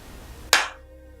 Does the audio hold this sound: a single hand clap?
yes